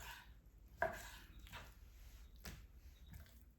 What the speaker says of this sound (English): The rest of this, I'm just gonna cube up for our braise.